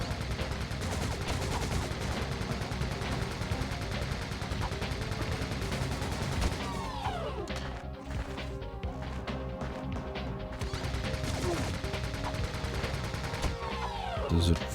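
Blaster fire in Ratchet & Clank, rapid repeated shots crackling nonstop through a dense, busy mix of combat effects and game music, with occasional voices underneath.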